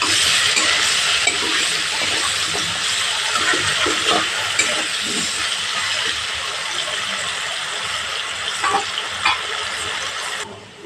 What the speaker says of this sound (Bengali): চামচ হলুদ হাফ চামচ লবণ দিয়ে আলুগুলো ভেজে নেব